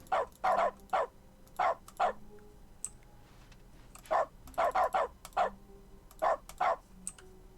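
Dog barks from the dog mode in The Stanley Parable: Ultra Deluxe, a game sound, arriving in short clustered bursts of two to four barks with brief pauses between them, loud and close, with no talk over them.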